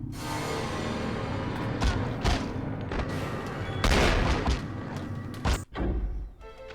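Gunfire in The X-Files: Resist or Serve video game, a dense fusillade of heavy thumping shots and booms over a loud continuous game soundscape, with a sharp cutoff near the end before the din resumes.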